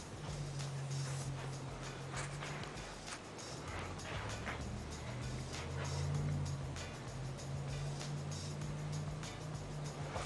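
An electric fan with a 130 RPM, 12-watt motor coasting after being switched off, a faint, continuous low whir with steady background noise and no voices.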